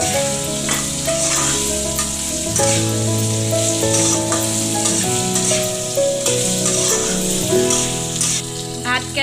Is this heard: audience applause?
no